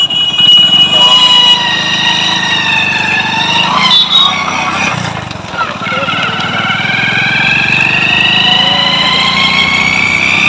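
A motorcycle engine runs close by while riding, after replacing the gear primary drive, a loud steady drone whose pitch rises as it revs, dips briefly midway, then climbs again.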